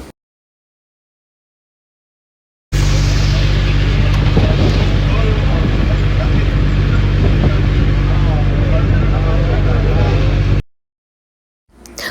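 A passenger boat cruises the Kuttanad backwaters, its engine a steady low drone for about eight seconds with wind rushing across the microphone, then cutting off abruptly.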